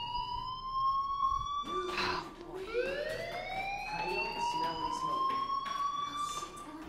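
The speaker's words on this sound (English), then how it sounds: "do you hear that fire alarm? That means you should be outside." Fire alarm sounding in the video game Life is Strange, a loud steady electronic tone that holds on and then sweeps upward, with bursts of other noise and a faint voice underneath.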